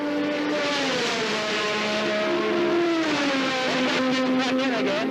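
A Formula One race car engine holds a high, buzzing harmonic whine that shifts and drops in pitch as the throttle changes, sustained and loud, with a voice talking over it.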